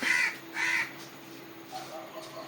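A crow caws twice loudly and nearby, followed by a few fainter calls in the background.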